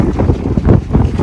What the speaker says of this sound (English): Today was so windy